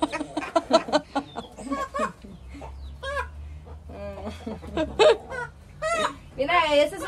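Chickens in a newly built coop cluck and squawk repeatedly in uneven bursts close by, a rooster among them courting a hen, with a steady low hum underneath.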